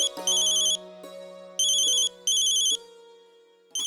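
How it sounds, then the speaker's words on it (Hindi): A mobile phone ringtone plays in loud, repeating bursts of bright electronic chimes over a sustained melodic tone, stopping and restarting several times with no talking. "ये तो अमृत का फोन जी"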